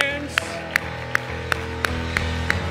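Congregation at a Sunday church service clapping hands in a steady, evenly spaced beat, about seven sharp claps over a sustained background of music and voices.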